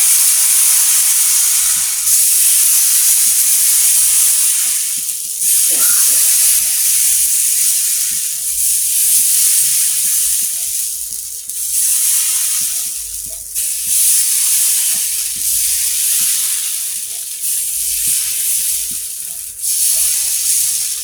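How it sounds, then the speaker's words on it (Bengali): Spicy jhal pitha dough fries on a hot, oil-free tawa with a loud, continuous steamy hiss that swells and eases in regular waves over about twenty seconds. "এখন আমি তাওয়াতে ভেজে নিব।"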